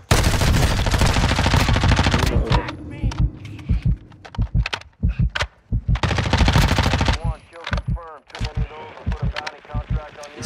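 Rapid bursts of automatic gunfire in the DMZ mode of a shooter video game, loud and repeated in clustered volleys over several seconds, with voices talking between and over the shots.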